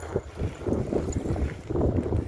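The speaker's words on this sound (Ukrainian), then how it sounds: "І знову вітер, як завжди." Gusty wind buffets the microphone beside a lake feeding into a canal system in Drachten, Netherlands, a loud, continuous low rumble with uneven surges and no talking.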